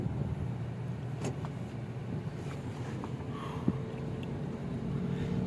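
A hybrid Toyota Prius with an engine misfire fault is driven, with a steady low cabin rumble and road noise, a few faint clicks and knocks, and no voices.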